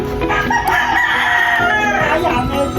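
Backyard chickens, including a crowing rooster, cluck and call steadily at feeding time, a dense close flock noise with a crow near the start.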